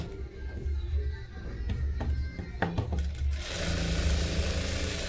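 A sewing machine stitches the neck of a thick cloth blouse in short, fairly quiet bursts of mechanical whirring with pauses between runs, followed by a steady hiss.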